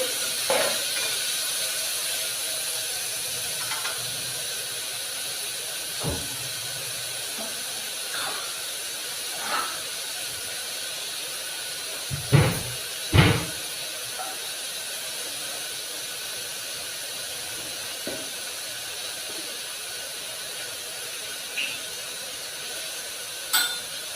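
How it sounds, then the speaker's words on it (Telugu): Chopped onions frying in oil for a flat bean and tomato curry give a steady, close hiss and sizzle that runs throughout, broken by a few sharp pops and clinks. "ఇవి రెండు ఉల్లిపాయలు గుండెగా తరిగి పెట్టుకోవాలి ఇవి ఎర్రగా వేయించుకోవాలి"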